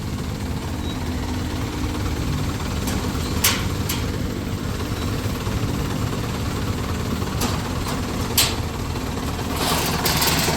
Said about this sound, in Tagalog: So itong makina niya mga boss, 4BC2 engine, napakatahimik ng andar.